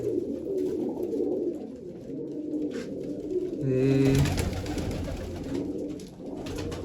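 Flying pigeons and larger pigeons coo repeatedly in a loft, a near rolling chorus of throaty calls, with a brief spoken word.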